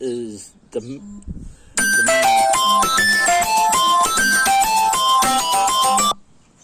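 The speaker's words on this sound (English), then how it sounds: "if you heard that, that was an incoming phone call." An incoming phone call ringtone plays a bright repeating melodic chime loudly for several seconds, following brief speech at the start and then cutting off.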